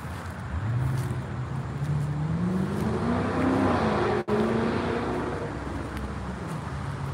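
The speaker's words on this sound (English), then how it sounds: "We're by traffic, so it gets loud now" A car passes close by on a road alongside a wooded cemetery, its engine tone rising and sweeping as it approaches and fades, with steady traffic roar underneath.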